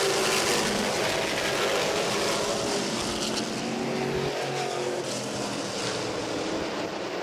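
Modified race cars roar around the Langley Speedway oval in a sustained, loud, broadband engine drone that stays dense and steady throughout, with no nearby speech.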